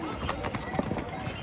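Horse hooves clip-clopping on a mountain path, a rapid, uneven run of close hoof strikes heard over general outdoor background, with people talking nearby.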